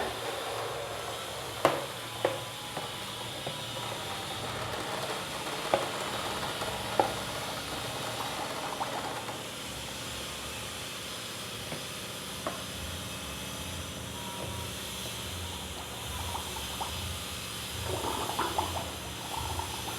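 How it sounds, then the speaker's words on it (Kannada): A booster pump pushes water through an Enagic SD501 water ioniser during deep cleaning, giving a steady rushing, hissing flow of water with faint clicks and splashes throughout, moderately quiet and continuous. "ಈಗ ಬೂಸ್ಟರ್ ಪಂಪನ್ನು ಆನ್ ಮಾಡ್ತೇನೆ"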